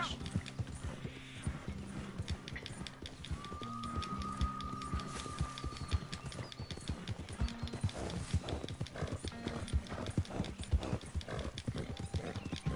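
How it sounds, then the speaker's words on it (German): Rhythmic hoofbeats of a horse clip-clopping steadily in Red Dead Redemption 2 Online, with a brief whinny-like tone and ambient game sounds, no voices. "Wenn mein Pferd da am Grunzen ist"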